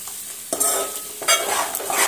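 Mutton keema fries in a thick pot, hissing and sizzling while a spoon scrapes and stirs it in quick strokes, close and loud with no talking.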